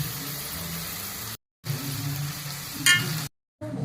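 Beef sizzles in hot oil in a pan with mustard seeds, fenugreek and shallots, a close, steady crackling frying sound broken by two short silent gaps.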